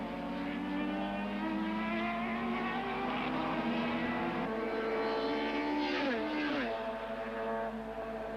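Ford Mondeo and BMW Super Touring cars racing at Killarney circuit, loud sustained engine roar from close by with pitch shifting through gear changes, the tone dropping as a car passes.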